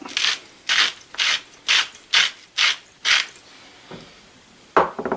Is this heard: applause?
no